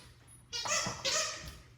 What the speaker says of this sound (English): that's actually Dashi and her dog toy.